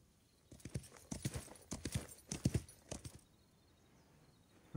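A horse trotting in the Wild West Online video game, hooves clip-clopping in a steady run of close, distinct steps for several seconds before stopping, with no talk.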